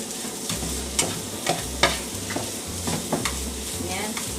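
Ham and egg fried rice with green peas being stirred in a hot pan: a spatula scrapes and taps repeatedly over a steady sizzle, close up, in short rhythmic strokes with no voices.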